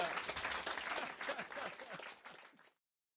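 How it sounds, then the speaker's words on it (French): Audience applause fills a French television chat-show studio, dense and steady clapping at a moderate level that tapers off and stops near the end, with some crowd murmur mixed in. "On applaudit et on remercie quand même Thioro et Ludovic"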